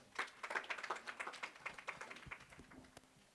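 Crowd applause at an indoor report launch event, a burst of many hands clapping that rises quickly, holds steady for about three seconds, then thins out near the end.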